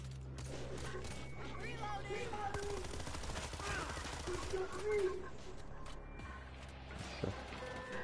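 Gunfire in the zombie shooter World War Z, with dense bursts and rapid volleys of shots running steadily throughout, mixed under game sounds and muffled voices.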